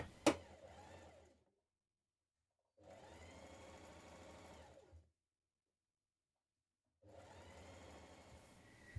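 Sewing machine top stitching a sweatshirt, running in two steady, fairly quiet passes separated by pauses, with a sharp click at the start.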